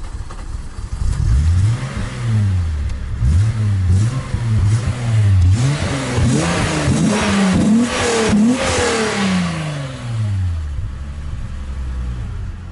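A VW Golf 2 with a VR6 engine running, revved repeatedly in rising and falling swells, a close, throaty rumble climbing and dropping several times before settling back toward idle.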